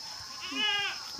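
A single goat bleats once, a short wavering cry, close and clear over low outdoor noise.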